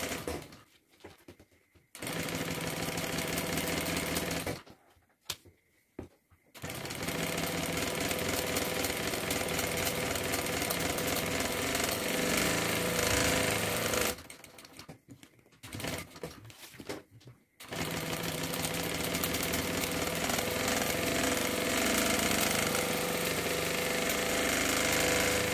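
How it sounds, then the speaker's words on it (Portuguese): A sewing machine stitches a seam on an insulated bag, running in long loud mechanical bursts broken by a few short pauses. "Agora, eu vou fazer a costura com meio pé de máquina."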